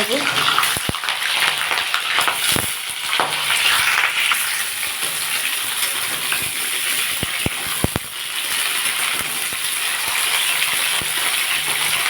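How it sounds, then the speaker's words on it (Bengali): Cauliflower florets fry in hot oil for a Bengali doi phulkopi curry. A loud, continuous bubbling sizzle runs close by throughout, broken by scattered clinks and knocks of a utensil. "এই তেলের দিয়ে আমি ফুলকপিগুলো ভাজবো"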